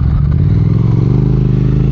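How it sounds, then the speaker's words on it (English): A 2022 Triumph Speed Twin motorcycle engine runs up in a garage, a loud, close, throaty engine note that holds fairly steady for a couple of seconds. "And it revs nice and quick."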